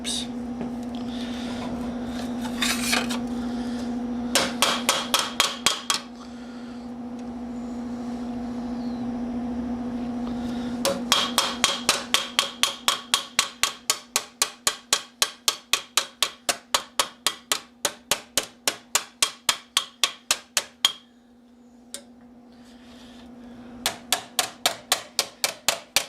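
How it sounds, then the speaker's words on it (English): Steel plate being hammered into a Milanese mitten gauntlet of about 1450, long runs of rapid, evenly spaced metallic blows with short pauses between bursts, loud and close over a steady low hum. "it's when I'm hammering down"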